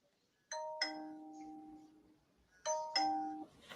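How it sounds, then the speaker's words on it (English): A doorbell rings twice, each time a clear two-tone ding-dong that rings on and fades, with a short pause between the presses. The room is otherwise quiet. "He finished up and walked over to his doorbell and rang it a couple times."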